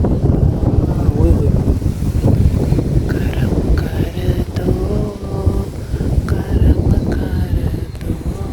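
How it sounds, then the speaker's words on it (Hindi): Strong, cold wind roars steadily and loudly across the microphone throughout, a constant buffeting rush with a few faint tonal sounds beneath it. "कितनी तेज़ हवा थी जी"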